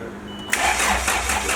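Car engine cranking and catching, a sudden loud start that settles into a rough, steady running rumble close by.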